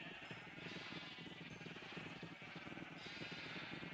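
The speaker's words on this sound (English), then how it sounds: "we got to breed up all the sheep" Sheep bleating in the Minecraft video game, a steady wavering chorus of bleats that carries on throughout over a continuous background hum.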